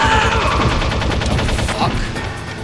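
Rapid gunfire in the stealth game Metal Gear Solid Integral on PC, a dense run of closely spaced loud shots that carries on without a break and fades slightly at the end.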